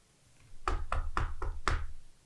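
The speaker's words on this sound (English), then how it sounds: "there was a knock on his door" Five firm knocks on a wooden door come in an even, slightly spaced rhythm, loud and close against a quiet, faintly windy background in a dramatized story.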